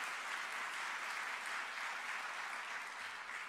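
Audience applause at a swearing-in celebration in San Diego, a steady uniform clapping texture heard at some distance, fairly faint and unchanging throughout.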